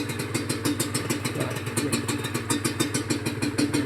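A rebuilt Honda NSR150RR two-stroke motorcycle engine running at close range, a steady rapid pulsing putter with metallic clatter, loud and continuous with no talking.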